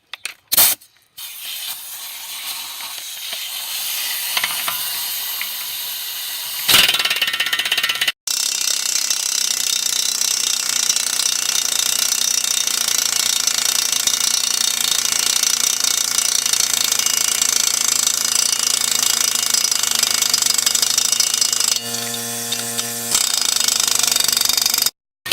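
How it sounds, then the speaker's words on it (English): An impact wrench tightens a strut nut on a Pontiac G6 with a loud, sustained rapid hammering that runs for long stretches, broken by brief pauses and some clanking. "Then you will have to use your impact to finish snugging it up."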